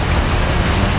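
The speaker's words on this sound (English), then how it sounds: "We didn't pick the perfect time to come out here since it's pouring out rain so bad" A dense, loud wash of steady hissing noise as heavy rain pours down close by at Nine Arch Bridge, Sri Lanka, constant throughout the short moment.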